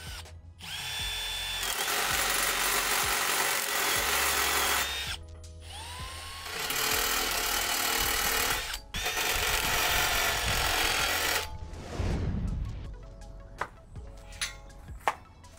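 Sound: step drill bit drilling steel

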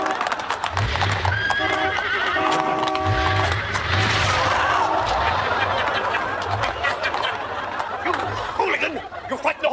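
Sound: horses

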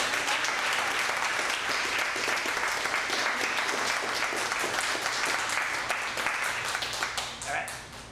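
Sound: audience applause at a poetry reading

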